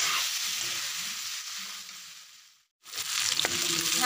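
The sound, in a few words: duck meat frying in its own fat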